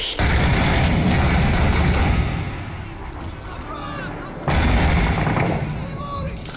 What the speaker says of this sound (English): you can hear the muffled shots and the voices ringing over the radio